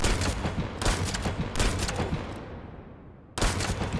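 Rapid gunfire in The First Descendant video game as enemy heads are shot, loud close bursts of shots in quick succession that pause briefly and then resume, with no talking.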